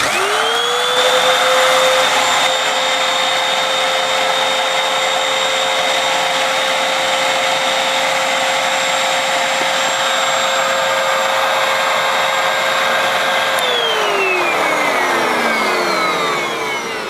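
A Hoover Windtunnel vacuum cleaner, which has a suction fault, whines up to a loud, steady motor drone that holds for about thirteen seconds and then spins down. There is no talk.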